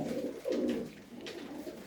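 A female pigeon held in hand gives a couple of low, throaty coos close up, soft and muffled against a quiet background.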